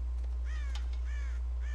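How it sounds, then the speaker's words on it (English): Crows in the video game Red Dead Redemption let out a few loud, rasping caws in quick succession over a steady low background hum, with no talk. "God damn crows!"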